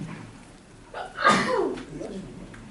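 A sneeze in a classroom during a math lesson, a single short burst near the microphone, surrounded by a quiet room.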